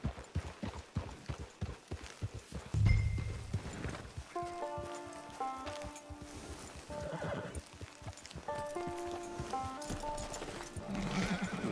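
Horse hooves clip-clopping in a steady rhythm in Red Dead Redemption 2, joined by a whinny, with game music and ambience underneath throughout.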